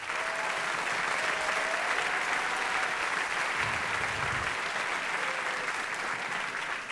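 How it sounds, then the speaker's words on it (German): Crowd applause for the sound engineer at an open-stage concert in a tent venue, long steady clapping of a sizeable audience with faint whistles and voices mixed in. "der verdient auch mal einen Applaus"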